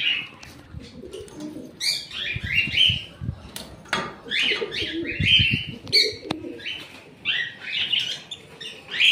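Adult budgerigars in a cage setup chatter and chirp busily, overlapping high warbling calls in quick bursts, with occasional soft thumps and wing movement nearby.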